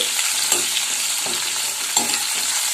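Curry leaves and spices frying in hot oil, a steady close sizzle broken by a few scraping stirs in the pan, with no voices.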